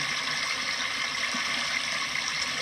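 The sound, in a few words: small backyard waterfall flowing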